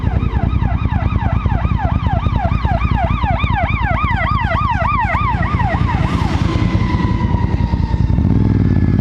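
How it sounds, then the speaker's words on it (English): A loud wailing fire department siren sweeps up and down rapidly and repeatedly, close by, then shifts to a steadier tone as traffic rumbles underneath. "hearing a siren."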